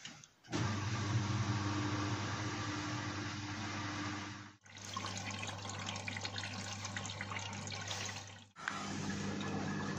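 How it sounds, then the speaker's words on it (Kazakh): A Samsung washing machine runs and takes in water, giving a loud, steady rushing hum in three long stretches separated by short pauses, with no voices. "Кір жуғыш машинасы өз қызметінде, өз бағытымен, өз тәртібімен жұмыс жасап жатыр"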